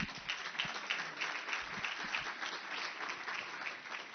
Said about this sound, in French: je vous demande d'applaudir d'ailleurs la métropole, le département et la ville de Marseille